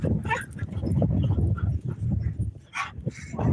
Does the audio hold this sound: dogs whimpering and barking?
yes